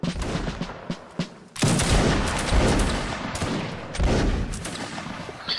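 A reenactment regiment fires a ragged musket volley outdoors: a few scattered shots, then a loud crashing burst followed by another, each rumbling off in a long echo.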